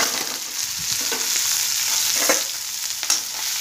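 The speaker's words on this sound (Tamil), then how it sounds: "போட்டுட்டு வெங்காயமும் பச்சை மிளகாயும் உடச்சி வருங்க." Onions and green chillies fry over mustard seeds and cumin for avarakkai poriyal, a close, dense hiss of sizzling oil broken by a few stirring taps across a few seconds.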